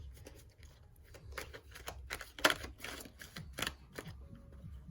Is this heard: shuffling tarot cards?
yes